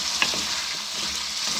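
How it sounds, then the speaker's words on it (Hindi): Boiled cauliflower frying with potatoes in a pan for aloo gobhi gives a steady, close sizzle with a soft crackle throughout and no talking. "इसके साथ फ्राई कर लूँगी"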